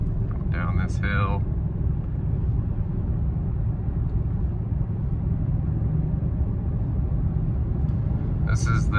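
A 4-cylinder 2024 Toyota Tacoma towing a tractor down a hill, with a steady low engine and road rumble filling the cab throughout; brief voices break in near the start and end.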